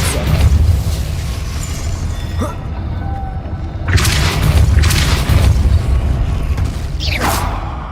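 Depulso force spell blasting in Hogwarts Legacy gameplay, a loud booming whoosh over a steady rumbling game backdrop, followed by further bursts and rattles.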